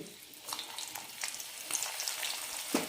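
Unpeeled and crushed garlic cloves fry in hot oil for a raw banana mixture snack, with a steady, close sizzle and light crackling that swells near the end.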